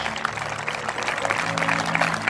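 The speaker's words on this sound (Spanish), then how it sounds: "Un fuerte aplauso al Señor." A church congregation at a healing service in Argentina claps loudly in praise, dense steady applause with a faint hum of voices underneath.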